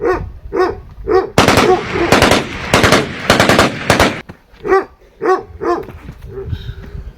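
Bursts of rapid automatic gunfire in a dramatized Punjabi story, loud and dense over a few seconds, with a dog barking before and after the shooting.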